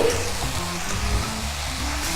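Nuts and apples frying in a pan with sugar and cinnamon give a steady, close sizzle that holds even and unbroken, with no voices.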